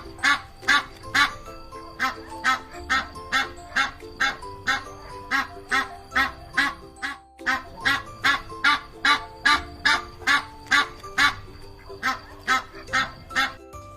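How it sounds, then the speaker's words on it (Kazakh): A duck quacks in a steady, evenly spaced series of loud, nasal honking calls, close by and repeated many times without pause. "Кря-кря."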